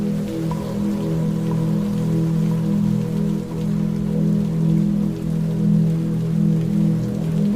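Steady rain falling continuously, a dense even patter with low droning undertone, no voices.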